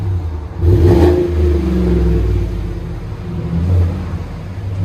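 Loud, near exhaust note from a 2018 GMC Sierra Denali 5.3L V8 running a Flowmaster Super 44 in place of the cut-off resonator and muffler: a quick rev rises to a deep burble, settles, then a smaller second blip follows.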